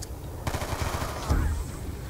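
Rapid automatic gunfire from the Call of Duty Nuketown Zombies game mode, a dense stream of close, loud bursts with a heavier blast near the end, no voices over it.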